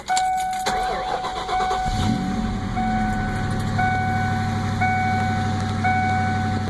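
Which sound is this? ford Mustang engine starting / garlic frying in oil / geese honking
ford Mustang engine starting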